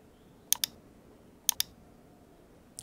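Mouse clicks while working in Photoshop: two quick double clicks about a second apart, crisp and close, then a faint click at the end in an otherwise quiet room.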